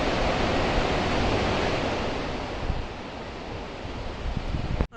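The Kalpganga river rushes below the Kalpeshwar temple in the Urgam Valley, a loud, constant broadband roar of flowing water that fills the scene without a break, with no voices over it.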